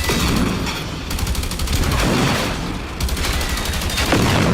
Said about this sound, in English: This game has some of the best explosions.